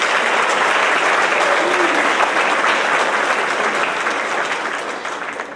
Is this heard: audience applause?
yes